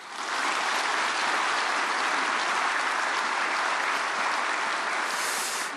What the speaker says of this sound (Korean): 박수로 환영해 주시기